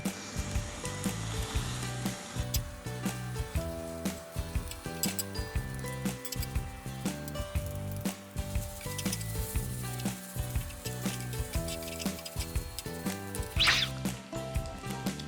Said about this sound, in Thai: และหลังจากนั้นเนี่ยป๊อบจะผัดทุกอย่างเข้าด้วยกัน